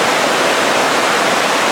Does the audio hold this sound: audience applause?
no